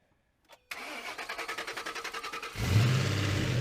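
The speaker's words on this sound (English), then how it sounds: "We're gonna start it, make sure it runs" A Ford Mustang engine cranks with a rapid rhythmic starter chatter for about two seconds, then catches and fires into a loud rough idle, heard up close with no speech.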